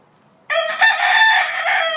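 A rooster crows once, loud and close, a single drawn-out call that starts abruptly after a moment of near silence.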